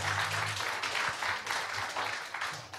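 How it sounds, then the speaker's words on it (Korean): Applause from a lecture-hall audience at a humanities forum on posthuman society, a broad wash of clapping lasting the whole short stretch at moderate volume. "서윤호 교수님께 다시 한번 큰 격려의 박수 부탁드립니다"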